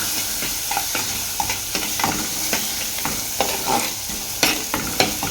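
Chopped ginger sautés in a pan for a sardine dish, a steady sizzle broken by rhythmic scraping strokes of a spoon, close and moderately loud, with no voices.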